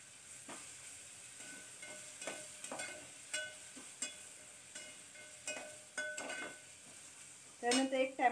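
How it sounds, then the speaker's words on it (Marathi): Onion with ginger-garlic paste sautéing in a pan makes a quiet sizzle broken by intermittent scraping stirs, with a louder burst of utensil clatter near the end. "छान परतून घ्यायचं"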